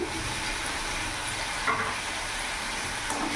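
Spices frying and being stirred in a pan for okra curry, a steady close hiss of sizzling with a few faint scraping clicks, no talk.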